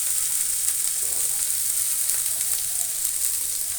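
Potatoes fry in oil together with browned banana flower, giving off a loud, constant hissing sizzle close up with faint spatters throughout.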